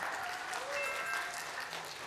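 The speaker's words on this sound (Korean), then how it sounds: "박수 더 쳐줄 수 있지 않나요?" An audience at a regional high school mock-trial competition applauds as a team is welcomed, a dense, continuous wash of clapping throughout with a faint murmur of voices underneath.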